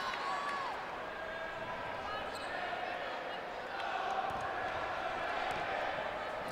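A steady roar of an indoor crowd at a girls' high school basketball game, with a basketball bouncing on the court and a voice talking over the din.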